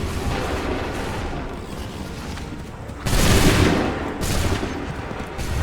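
Musket volleys crack out in dense, overlapping gunfire during a battle in Assassin's Creed III, with a louder burst of massed shots midway over constant rumbling noise.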